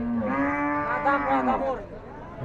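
Cattle at a busy cattle market low and moo in a long, loud, drawn-out call that swells and bends in pitch, close by, with faint crowd chatter in the background.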